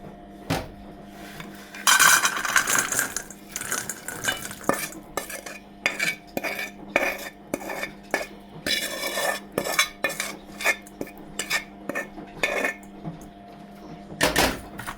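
Metal utensils scrape and clatter against a pan and bowl while dried bumla pickle is moved out, with repeated sharp scraping and tapping strokes, close and steady, with occasional soft speech.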